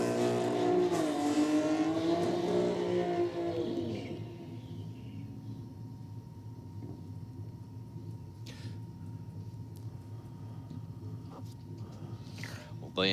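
Drag-racing cars including a BMW in the Aeroflow lane at a drag strip, a loud engine roar that fades over the first few seconds into a steady distant rumble with occasional sharp bangs, under commentary.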